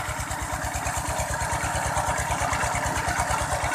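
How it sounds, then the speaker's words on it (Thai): Small engine-driven water pump running steadily with a rapid, even idle-like chug, loud and close while pumping water into a rice paddy field. "ครับนี่ก็สูบใส่อีกแปลงนึงนะครับ"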